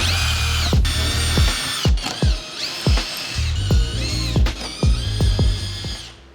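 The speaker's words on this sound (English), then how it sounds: "Time for drilling" A power drill bores holes in carbon fiber side skirts for an R1, in repeated short, whining bursts that rise and cut off sharply, close up and loud.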